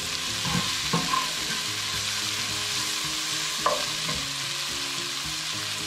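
Onions sautéing with salt in a pan, a steady close sizzle with occasional scrapes of a spoon stirring through them, no talking.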